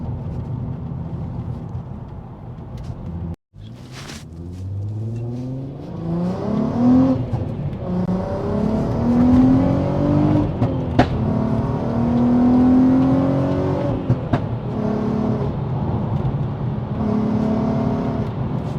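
VW Golf R32 MK5 with a Stage 2 engine revving hard, loud rising and falling exhaust note with pops and bangs, a brief cut near the start, then sustained high revs close by.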